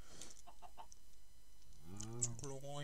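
Chickens in the Minecraft Hexxit video game cluck in a few short, quiet calls, with a louder squawk near the end, while someone talks in German over them.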